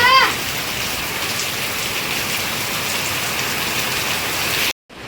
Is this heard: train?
no